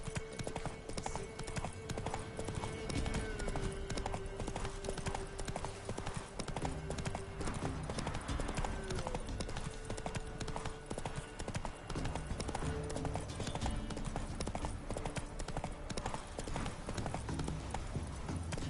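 Geralt's horse Roach in The Witcher 3 video game, hooves clip-clopping in a quick, steady rhythm throughout, with a brief whinny and faint background game sounds and voices.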